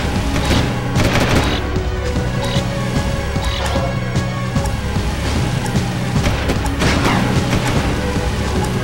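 Enemies in the video game Jak II open fire in a dense, continuous barrage of rapid shots and booms that stays loud throughout.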